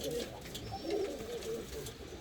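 Bulgarian Bango pigeons cooing in a coop, soft low rolling coos repeating across the moment, fairly close, with faint background noise and no talking.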